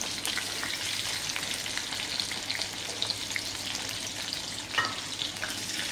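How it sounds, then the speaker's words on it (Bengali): Prawn and pui leaf pakoras bubbling in hot oil, a dense steady crackling sizzle up close with small pops and occasional stirring, no voices. "সুন্দর করে বাদামি করে ভাজা হয়ে গেছে। একটু সময় নিয়ে ভাজতে হবে"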